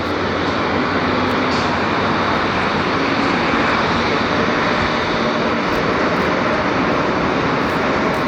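A Spirit Airlines Boeing 737 MAX 9 jet roars past at LAX, a loud, steady engine rumble filling the whole clip without any voices.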